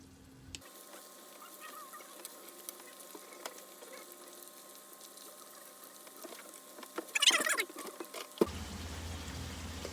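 Zucchini sizzle and pop in a pan aboard a sailboat, a soft continuous frying crackle with a brief louder stir near the end.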